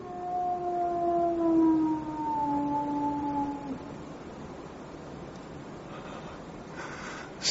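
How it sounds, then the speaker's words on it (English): A long, wavering howl of the Hound of the Baskervilles drifts across the moor, its rising and falling tones fading out over several seconds against a steady windy background. "They say it's the cry of the Hound of the Baskervilles."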